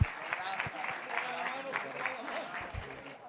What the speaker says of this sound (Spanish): un fuerte aplauso a nuestros timekeepers